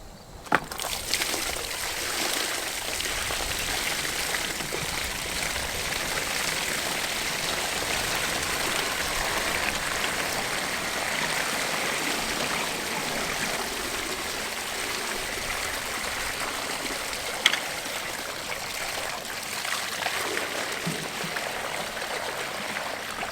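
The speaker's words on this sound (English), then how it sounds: "Well, let's pour a lot of water down here." Water poured from a cooler drains through a channel drain set in a gravel driveway, a steady close rushing trickle that holds for the whole stretch, with one sharp knock near the end and no talking.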